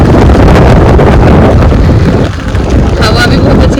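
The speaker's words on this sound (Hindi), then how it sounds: "हवा भी बहुत अच्छी चल रही है" Loud, constant wind roaring over the microphone while riding a bike through heavy rain, a dense rushing blast that dips briefly near the end.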